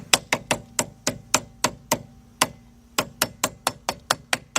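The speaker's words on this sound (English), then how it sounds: "This is our dust cap to keep dust from out of there. Take a little hammer." Rapid series of sharp metallic hammer taps on a rear brake dust cap of a 1993 Nissan Altima, about twenty light blows in quick uneven bursts, close by with no talking.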